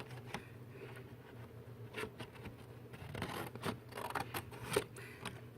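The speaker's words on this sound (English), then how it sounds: "just cut these sections right here, make a little slit so you can make your flaps" Scissors snip slits into a single sheet of paper to form box flaps, a quiet series of short crisp cuts and paper rustles, close by, with no talking.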